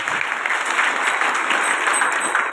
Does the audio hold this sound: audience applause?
yes